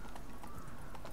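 Horse galloping in The Witcher 3: Blood and Wine, with steady hoofbeat clip-clops against a dense, continuous game soundscape throughout.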